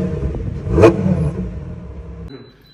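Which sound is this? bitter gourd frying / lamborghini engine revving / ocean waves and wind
lamborghini engine revving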